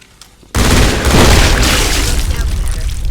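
Heavy gunfire in Mass Effect Legendary Edition bursts in suddenly after a near-silent half second, a loud dense volley with booming impacts that stays intense and then gradually thins out.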